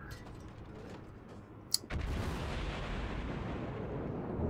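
A cruiser St. Louis in World of Warships fires a gun salvo: after a quiet mechanical stretch with one sharp crack comes a loud, booming roar that lingers as a broad rumble.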